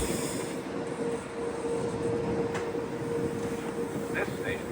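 A Metro North train sits at a station in New York, with a steady rumbling hum and a faint squeal while a station announcement plays over it.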